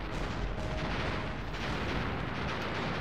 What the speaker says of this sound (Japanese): 今はこうやって砲撃して敵の飛行場を徹底的に、まあ、破壊っていうね、手段を取ってますけども